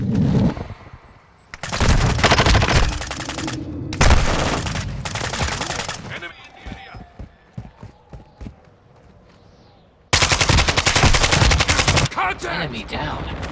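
Loud automatic gunfire in a Call of Duty team deathmatch arrives in long, close, rapid bursts, broken by a quieter stretch of scattered single shots and clicks before another sustained volley.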